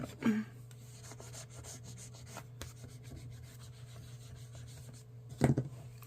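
Stickers are burnished onto a paper planner page, producing a soft continuous rubbing and light scratching close by, with a couple of louder taps at the start and near the end.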